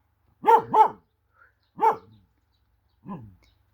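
A dog barks close by: two quick barks, then a single bark, then a softer one after a pause, with silence between.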